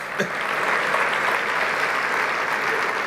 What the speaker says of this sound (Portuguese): vamos dar uma salva de palmas, que esse povo é vencedor